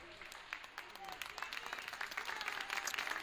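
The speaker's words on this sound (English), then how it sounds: "a nice round of applause." Spectators at a third-place basketball game give a steady round of applause from the stands, a dense patter of clapping that rises slightly and continues throughout, with crowd murmur and distant voices underneath.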